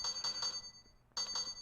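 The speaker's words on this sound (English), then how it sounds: "It sounds like a old school arcade game. You know, where you hear the bells ringing." Electronic bell-like ringing from the A-Train PC simulation game, arcade-style, in repeated bright pulses that pause briefly and then resume, clear and alone.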